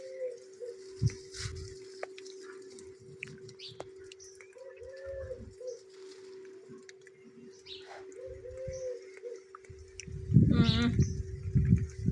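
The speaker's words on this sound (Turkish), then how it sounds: "Kuşların sesine bak ey." Birds chirp and call intermittently against a quiet outdoor background, with a steady hum and a louder rustling burst near the end.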